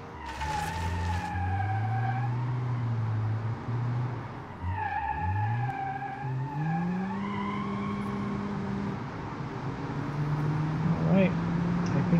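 BeamNG.Drive car with fat, thin-walled tires and an overpowered engine: a steady engine drone with long wavering tire squeals over continuous road noise, and someone talking over it.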